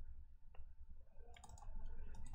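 Computer mouse clicks from someone working in Windows Server 2019, a few sharp, close clicks scattered over a quiet room background with no talking.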